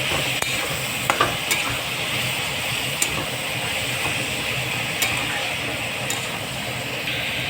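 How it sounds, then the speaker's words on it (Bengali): Onion greens and chopped onion fry and sizzle in a pan with garlic, with a steady hiss and occasional sharp clinks and scrapes as a utensil stirs them, close up. "এর মধ্যে এরপর দিয়ে দিলাম পেঁয়াজ কলি আর খানিক পেঁয়াজ। তাহলে এটাকে নাড়াতে হবে।"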